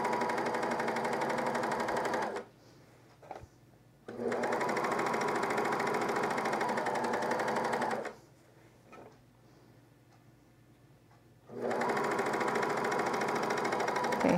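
A serger sewing machine stitches a camisole side seam in sustained loud runs, stopping twice for a couple of seconds of near quiet with small clicks before starting again.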